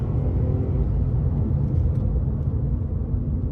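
A steady, loud low-pitched engine roar of a Porsche 911 996 4S held at the rev limiter, droning without letup, with no one talking.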